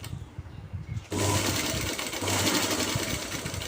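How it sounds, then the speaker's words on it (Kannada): An electric sewing machine stitches a pant belt piece, starting after a quiet second and then running loud and continuous, its motor hum steady with slight pulsing. "ಈ ಥರ 1/4 ಇಂಚಲ್ಲಿ ಸ್ಟಿಚ್ ಹಾಕೊಳ್ಳಿ"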